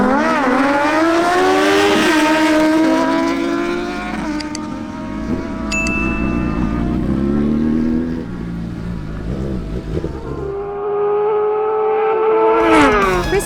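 A Suzuki GSX-S750 and a Kawasaki Z900 roar down a drag strip, loud engines revving high and stepping through gear changes with rising whines, then fading and surging again.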